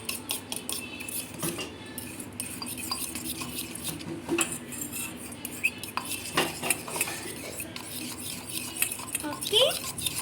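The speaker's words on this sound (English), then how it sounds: "Now stir it." Cutlery stirring beaten eggs for a four-egg omelette in a bowl or pan, a steady run of scraping clinks and taps throughout, close and moderately loud, with no one talking.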